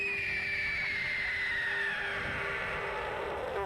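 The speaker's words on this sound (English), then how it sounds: "sky calling, when he points his head straight into the sky and makes that amazing screaming noise" A seagull gives its screaming sky call with head thrown back, a loud, close, drawn-out wail that slides downward in pitch, with more calls starting near the end.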